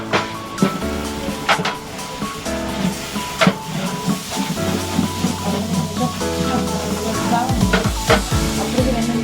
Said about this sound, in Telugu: అంతా కలిపేస్తాం. కష్టంగా ఉంది కలపడం.